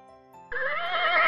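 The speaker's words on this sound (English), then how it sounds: "Horse." A horse gives a single short neigh that starts abruptly partway in and rings out bright and fairly close, with a faint tonal background before it.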